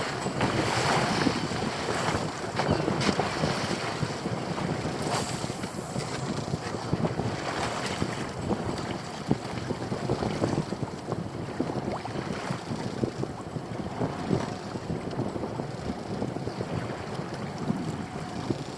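Steady wind buffets a fishing boat out on a bay, mixed with water and wave wash against the hull; a continuous, loud, rushing roar fills the whole stretch without a break, and no one speaks.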